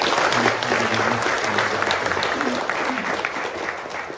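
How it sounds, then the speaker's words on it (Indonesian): An audience at an Indonesian talk-show event about hijrah breaks into loud, steady applause, a thick wash of many hands clapping that fades slightly toward the end, with speech faintly mixed in. "Tepuk tangan dong untuk"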